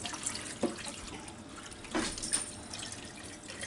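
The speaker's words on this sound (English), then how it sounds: "So we just kind of rinse them off in the sink here" Freshly butchered Cornish Cross chickens, chilled in ice water, rinsed under a kitchen sink faucet: a soft, steady running-water hiss with a few louder splashes and drips, fairly quiet and close, with no talking.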